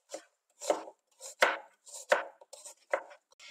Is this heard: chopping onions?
yes